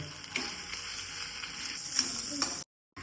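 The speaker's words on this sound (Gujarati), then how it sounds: "ઘી છૂટું પડે ત્યાં સુધી શેકાવા દેવાની છે આ હળદરને આપણે." Green turmeric roasting in ghee in a pan, with a steady close sizzle and a few stirring scrapes before the sound cuts out abruptly near the end.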